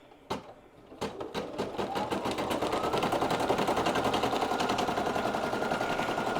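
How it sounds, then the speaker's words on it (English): A home embroidery machine runs a tack down stitch on a towel bow appliqué, its needle chattering in a fast, steady mechanical rhythm that starts after a couple of brief knocks and holds at an even, close, fairly loud level. "I'll go ahead and let it do the tack down stitch now"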